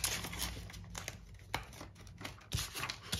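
Old glitter envelopes rustle and crinkle up close as they are handled, with irregular crisp bursts of papery sound and small taps.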